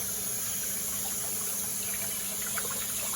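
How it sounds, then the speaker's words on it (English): Cold tap water runs steadily in a home kitchen, a continuous broadband rush and splash at an even loudness with no talking over it. "We're going to just run it under our cold water here."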